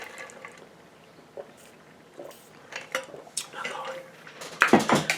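A glass of ice water handled near the microphone, with clinking of ice and glass against a surface, brief knocks building to a louder rattle at the end, faint background voice.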